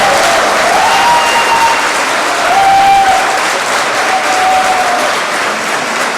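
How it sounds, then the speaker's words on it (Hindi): Loud, dense audience clapping fills a hall during a speech event in Delhi, steady and continuous throughout, with faint tonal hum or whistle traces beneath the crowd. "तो एक बार जोरदार, इतनी जोर से ताली मारो कि पूरी दिल्ली को पता चले"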